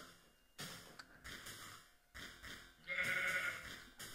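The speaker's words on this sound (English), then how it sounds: "Sheep, give me your wool." Sheep bleating in Minecraft, several short separate bleats over about four seconds, the last one loudest, clear and close with no talk.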